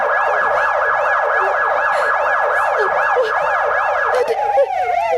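An ambulance siren wails loudly and continuously in a fast rising-and-falling pattern, close by, shifting tone near the end.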